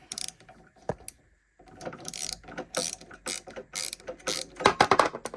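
A homemade ratcheting chuck key built from a Lisle tap socket, turned in reverse on a drill chuck, giving rapid loud clicking pawl bursts with a brief pause near the start.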